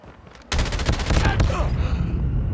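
Gunfire in the Call of Duty Mobile video game: after a quiet moment, a loud, rapid burst of automatic fire erupts and continues as a dense, crackling fusillade.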